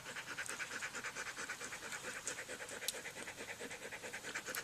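A dog pants steadily and close by, breathing rapidly in a continuous rhythmic huff beside someone's food at home, with no talking.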